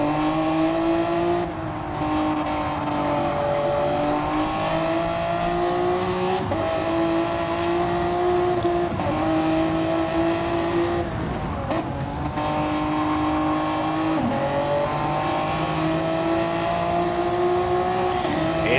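Honda NSX race cars in a racing video game drone along at high revs, a steady loud engine whine that rises and drops with gear changes and lifts, occasional tire noise, no voices over it.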